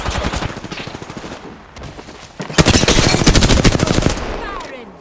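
Loud rapid automatic gunfire in a video game cracks in dense bursts. A short lull is followed by an even heavier sustained volley, and faint voices sit underneath.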